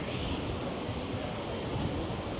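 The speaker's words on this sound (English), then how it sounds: "Wind's picking up" Wind picks up across Boston's Public Garden beside an outdoor artisan market on a summer day. It makes a steady, full rushing roar that blows across the microphone without a break.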